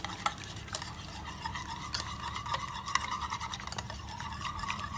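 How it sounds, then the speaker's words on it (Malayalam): A whisk or fork beats caramel pudding ingredients with sugar in a bowl, rapid rhythmic clinking and scraping strokes, close and moderately quiet, with no talking. "വിസ്ക് കൊണ്ടോ അല്ലെങ്കിൽ ഒരു ഫോർക്ക് സ്പൂൺ ഉപയോഗിച്ചിട്ട് ഇതിനെ മിക്സ് ചെയ്യുക."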